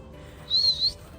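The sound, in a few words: person whistling to call a horse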